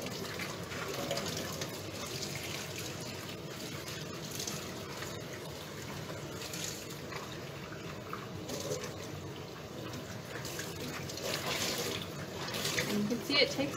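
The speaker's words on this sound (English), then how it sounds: "it takes quite a lot of rinsing to get the excess dye out" Water runs steadily into a sink, rinsing excess dye out of ice-dyed fabric, a continuous moderate splashing flow with light handling of wet cloth.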